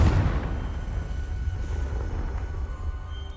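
A Confringo fire spell blast in Hogwarts Legacy opens with a heavy low boom that trails into a rumbling, crackling fiery wash, fairly loud and without speech.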